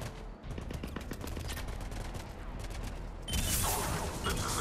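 Gunfire in the video game Mass Effect 3, rapid bursts of automatic weapon fire crackling in quick succession, then a louder, harsher blast of sustained shooting and explosion noise near the end, with faint radio chatter beneath.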